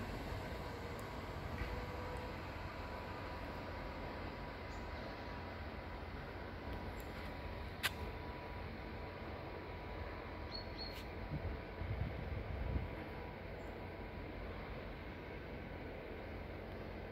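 Distant Vienna-style older subway train rumbling steadily as it pulls away from a station, with faint clanks and a few squeaks over a low, constant hum.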